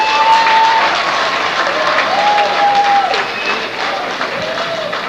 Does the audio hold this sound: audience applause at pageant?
yes